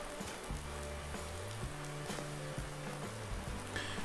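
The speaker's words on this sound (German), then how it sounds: "wir hören Regen" Rain patters outdoors near a sawmill in Thuringia instead of the forecast snow, a quiet continuous sizzling hiss over a low background hum, with no one speaking.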